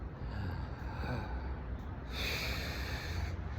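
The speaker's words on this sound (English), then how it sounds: "You just very gently kind of gasp in and out." Ujjayi breathing demonstrated by a person at a cold winter swimming spot, a soft, steady breathy hiss of air gently drawn in and let out, close and continuous with no talking.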